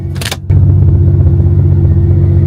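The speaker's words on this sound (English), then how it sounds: "That whine is from the transmission pump." A steady mechanical whine from the transmission pump of a 2017 Mazda 6, droning continuously close by after a brief burst of noise at the start.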